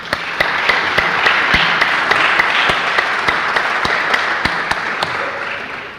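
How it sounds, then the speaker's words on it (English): Steady applause from an audience at the Seneca High School Project Lead the Way graduation ceremony for graduating students, dense and sustained for several seconds with a few sharp claps standing out, no talking. "Let's give them all a round of applause."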